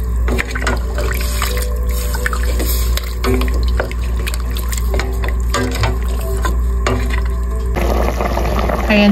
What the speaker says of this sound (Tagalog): Lagyan na rin natin ng tubig guys.